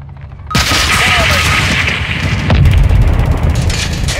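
Call of Duty Modern Warfare campaign combat: a sudden loud blast as an incoming missile hits, followed by rumbling explosions and sustained gunfire, heavy and close, with voices under the battle noise.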